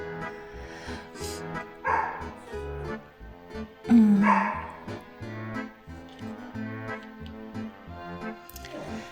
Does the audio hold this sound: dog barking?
yes